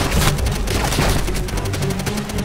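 Dense machine-gun fire and battle noise from the Call of Duty: World at War video game, a loud, continuous rattle of gunfire with booms layered throughout.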